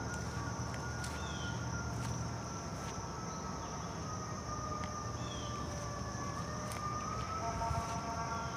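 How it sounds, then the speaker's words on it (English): An emergency siren wails on a road beside a cemetery at night: a faint, steady, distant tone drifting slowly in pitch over a continuous low rumble, with no voices. "there was a siren right on the road outside"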